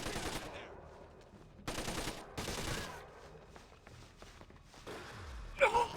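Automatic gunfire in Splinter Cell Conviction during a firefight at the Lincoln Memorial: several loud, close bursts of rapid shots separated by short lulls, ending in a sharp crack.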